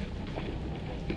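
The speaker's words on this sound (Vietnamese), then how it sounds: "Trời mưa mưa nè cả nhà ơi, bão tới rồi" Rain falls as a storm arrives, making a dense, steady hiss of drops that stays fairly loud and even for the whole moment.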